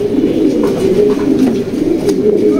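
Female racing pigeon in a loft giving low, soft repeated coos in a steady rolling rhythm, close and clear with no talking.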